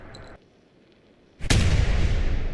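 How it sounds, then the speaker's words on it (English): A gun firing in Fallout 4: after a quiet lull, one sharp loud blast erupts and trails off in a long rumbling decay, close and alone. "When I fire this, is the barrel actually going to recoil backward?"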